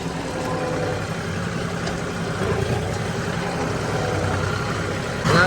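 An engine idles at an even, steady rumble, with water coming out of it, running unchanged throughout and slightly louder near the end; no one speaks.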